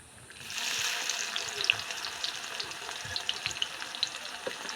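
Chopped onions hit hot mustard oil with cinnamon, black cardamom and cardamom already in the pan, bursting into a loud, steady sizzle with bubbling crackles that carries on evenly.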